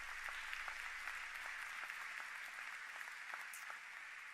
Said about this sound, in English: Give Zora Neale Hurston a round of applause for her vision.